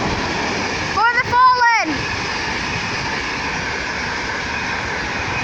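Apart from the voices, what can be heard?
Virgin Trains East Coast train passing through Dunbar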